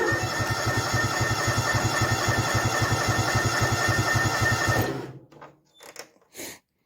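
A small John Deere F725 tractor engine idles with a steady, rapid low chugging for several seconds, then cuts out, leaving a few brief clunks and rustles.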